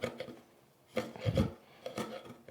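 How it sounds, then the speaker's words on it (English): Knife blade from a Temu knife rasping and scraping through wood in three separate strokes, close and fairly quiet, the middle stroke heaviest, with no talking. "Not exactly sure how well a knife should work cutting through wood, but this is the test, guys."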